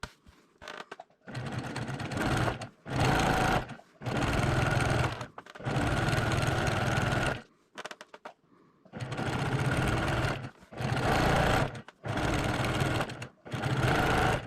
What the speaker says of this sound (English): I'm going to stitch them on either side and be back.